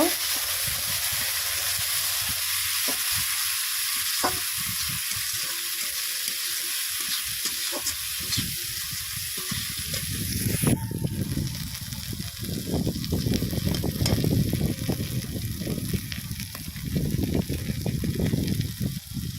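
Spice paste frying in a pan while being stirred, a continuous hiss and sizzle with scraping and clattering stir strokes that grow louder and busier in the second half, close and with no talking.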